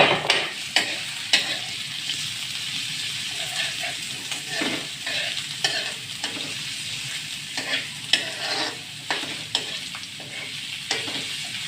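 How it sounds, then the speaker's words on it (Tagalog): Garlic, ginger and onion sauté in a pan for a pork blood stew, giving a steady, close sizzle. A spatula scrapes and clacks against the pan in a loose, repeated rhythm, with no talking. "Igisa na tayo. Then, ipagsama na natin ito siyang bawang luya saka sibuyas."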